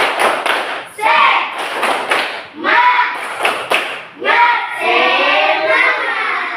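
Students in an Islamic religious education classroom perform a spirit clap, loud close hand claps in short rhythmic bursts with pauses, chanted along by their voices.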